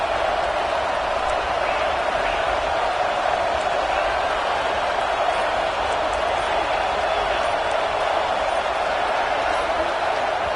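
Stadium crowd at a football game, a dense continuous roar that holds steady and loud throughout with no breaks, like thousands of fans yelling at once.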